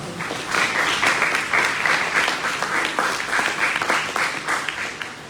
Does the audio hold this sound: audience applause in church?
yes